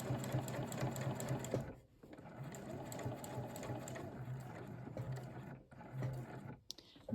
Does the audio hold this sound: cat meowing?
no